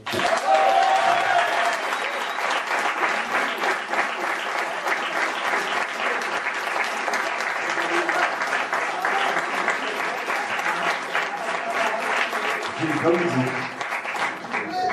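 An audience at a film premiere applauds the makeup team behind vampire creations, with loud, dense, sustained clapping filling the whole stretch alongside crowd noise and voices.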